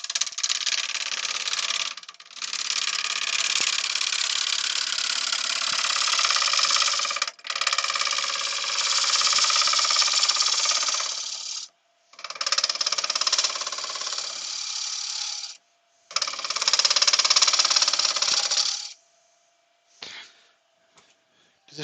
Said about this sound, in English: I'm going to go back to the 3/8 bowl gouge now and just try and get